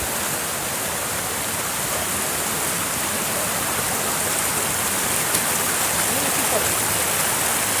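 A shallow stream in the wild Dadou valley near the Arifat waterfalls runs as a steady, dense, even rush of water, close and continuous with no voices.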